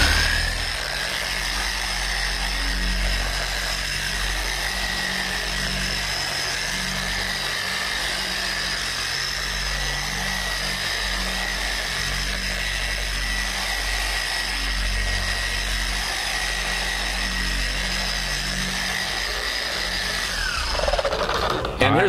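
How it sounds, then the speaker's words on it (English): A power polisher buffs car paint with a steady, continuous motor whine and low rumbling hum that holds evenly throughout, then cuts off abruptly near the end as the pad winds down. "Don't lift the polisher off the paint until that pad slows down, or you'll throw splatter all over the place"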